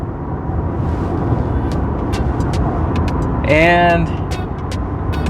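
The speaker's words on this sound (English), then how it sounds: "Very smooth riding vehicle." A 2021 Ford F150 King Ranch hybrid pickup drives along with a steady road and cabin rumble, and a brief rising tonal whine partway through, while someone talks over it.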